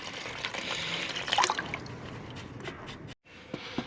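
Water trickles and splashes steadily out of the tandem drive of a 1972 Allis Chalmers M65 road grader, a close, continuous dribble that cuts off briefly near the end.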